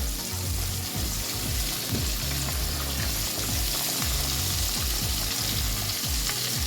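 Flour-dredged quail frying in oil over medium-high heat, a dense continuous sizzle and crackle with rhythmic low bubbling underneath, close and steady throughout, no talk.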